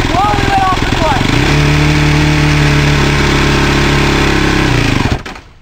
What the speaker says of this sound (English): Hit the start. Fire it up. Here's gas, slowly let off the clutch.